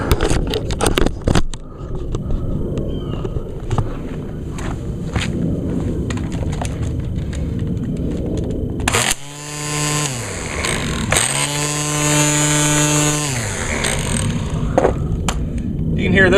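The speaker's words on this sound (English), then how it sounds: "This trimmer is much more quieter than the weed eater." An electric string trimmer on a lawn spins up to a whining hum around midway, drops off briefly and then starts again to run steadily, close and fairly loud. Speech is heard over the earlier part.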